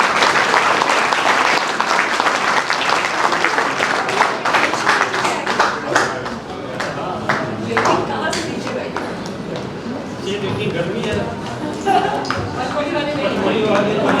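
An audience at an awards event at a police ITI (PTRI) applauds loudly, the clapping thinning and turning patchier midway with scattered individual claps, while voices talk underneath.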